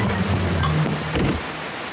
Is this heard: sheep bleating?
no